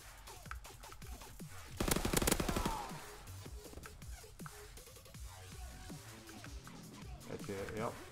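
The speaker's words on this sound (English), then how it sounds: "Enemy strafing run inbound." Enemy aircraft strafing gunfire in Call of Duty: WWII rips through in a loud, dense burst of rapid shots, surrounded by scattered nearby gunfire and someone talking.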